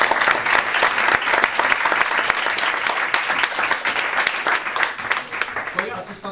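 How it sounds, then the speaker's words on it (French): Lively applause from an after-work club crowd honours two finalists, dense clapping that holds steady for several seconds before easing slightly at the end. "On les applaudit toutes les 2"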